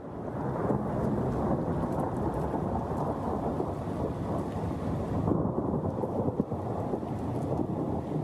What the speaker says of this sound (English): that was the thunderstorm beginning in Pennsylvania